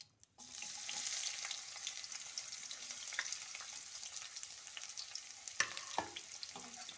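Chopped onion drops into hot oil and fries in a pan, giving a steady close sizzle broken by a few stirring scrapes.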